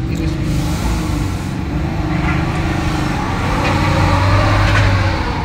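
A diesel truck engine revs hard in a shop, a loud, steady low rumble with surging throttle that holds throughout without a break.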